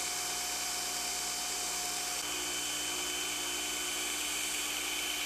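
An 8-inch grinding wheel hollow-grinding a knife blade, a steady high-pitched whine with a constant hissing grind that holds evenly throughout, loud and close with no talking.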